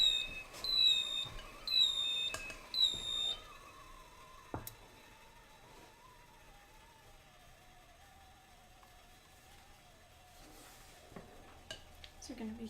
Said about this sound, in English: The waffle iron has beeped